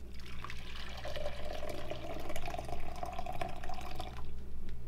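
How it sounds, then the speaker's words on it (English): Hot water poured into a glass French press over coffee grounds, a continuous close filling gurgle for about three seconds over a low steady hum. "and then add your hot water."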